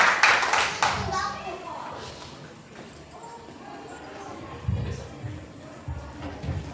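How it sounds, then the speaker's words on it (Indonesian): A church congregation claps to welcome the pastor, a short loud burst of applause that quickly dies away, leaving room noise with a few voices and scattered sounds. "Yuk kita sambut Pastor Benny dengan tepuk tangan yang lebih dahsyat lagi"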